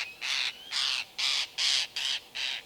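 An agitated lilac-breasted roller in Kruger National Park gives six harsh, rasping calls in an even rhythm, each about half a second long and fairly close.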